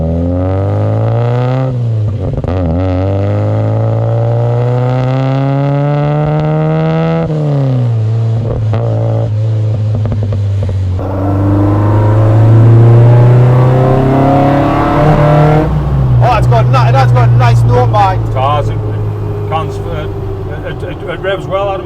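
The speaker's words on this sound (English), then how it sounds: "It revs well, Adam." A Ford Focus ST engine fitted in a Mk2 Escort van revs repeatedly, climbing and falling in pitch, loud and close, with a harsher rising rev toward the end.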